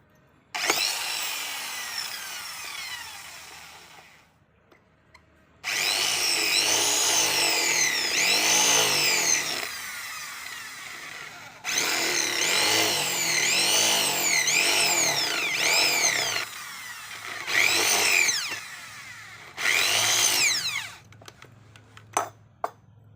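An electric drill bores through scrap iron while a spade is being made. It whines loudly in several long bursts separated by short pauses, with the pitch rising and falling as the bit bites into the metal.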